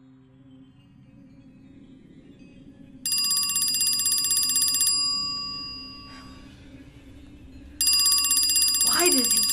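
An old-fashioned telephone bell rings in two loud bursts, with a voice speaking over the quiet stretches between rings.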